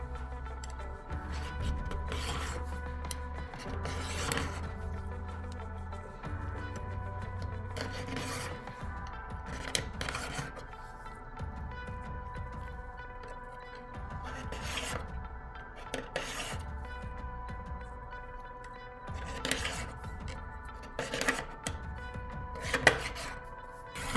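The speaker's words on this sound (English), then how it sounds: "I'm actually going to do one more pass on the file" Steel file rasping across a metal lever rail to fit a dovetail on a Rossi R95 rifle, close up, in irregular bursts of scraping strokes separated by short pauses, with faint clinks of metal between passes.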